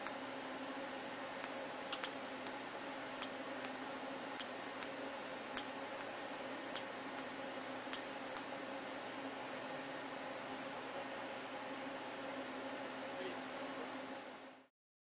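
A Panasonic TAWERS robot TIG-welds 1.5 mm stainless steel plate at high speed, giving a steady low hiss and hum marked by a series of sharp, evenly spaced ticks before cutting off abruptly.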